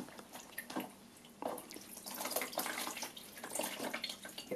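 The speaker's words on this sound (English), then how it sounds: "And I will take this piece and get it wet." Water drips and splashes as a piece of fabric is soaked in preparation for dyeing, irregular trickles and spatters close by, swelling and easing over a few seconds without talk.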